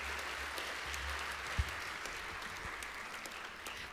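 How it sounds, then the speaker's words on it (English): A conference audience at a natural resources forum in British Columbia applauds a Carrier Nation chief, steady distant clapping at low level with one brief thump partway through. "Please give a warm round of applause for Chief Corrina Leween, Cheslatta Carrier Nation."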